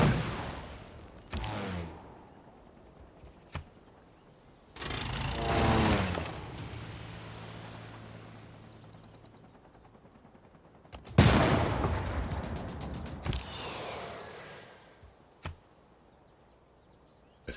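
Bombing in Civilization VI throws out sharp, booming blasts, several spaced impacts with long rumbling tails. Two bursts are heavier and fill several seconds each. The explosions sound fairly close and loud and stand alone, with no talk.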